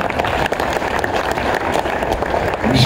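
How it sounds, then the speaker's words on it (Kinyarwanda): A wedding congregation applauds in a steady, dense wash of clapping that fills the room, loud and continuous throughout, with a few voices mixed into the crowd. "tugukomeye amashyi menshi tumushima."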